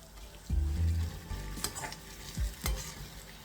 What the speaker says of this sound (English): We don't want to fry the spring onions too much.